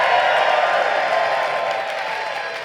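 A live comedy audience at Sketchfest in San Francisco cheers and applauds, a dense, steady wash of clapping and shouting that stays loud and alone across the moment, easing slightly toward the end.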